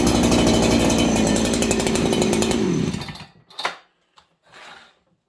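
A ported Husqvarna 288xp chainsaw on its first run roars loudly at high revs for about three seconds, then drops off to idle with a couple of brief blips, showing a slight bog at the bottom.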